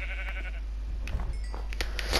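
A Minecraft sheep bleats a couple of brief times over a low steady game hum, short and moderately loud, with no speech.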